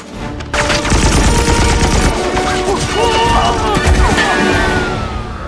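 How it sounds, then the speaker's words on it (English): M60 machine gun fire from the 2022 action film Violent Night, a loud, sustained barrage of rapid shots filling the whole scene, with faint voices mixed beneath the din. "That looked like an M60 they were firing up there."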